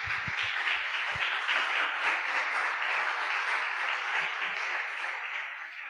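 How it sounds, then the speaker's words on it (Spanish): A church congregation claps for several seconds, steady broad applause that is moderately loud and slowly tapers off near the end, with a few low bumps underneath. "¿Por qué no le das un aplauso al Señor este día?"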